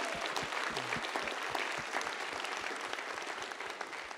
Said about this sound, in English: round of applause for State Senator Liz Krueger